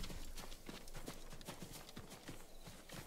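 A horse ridden at a steady pace in Ghost of Tsushima, its hooves clip-clopping in an even, rapid rhythm that stays close and moderately loud over the full stretch, while a voice talks quietly underneath.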